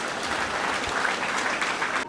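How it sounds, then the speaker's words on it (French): A crowd at a public ceremony applauding the local population, steady, full clapping throughout that cuts off abruptly at the very end. "que je vous prie d'applaudir"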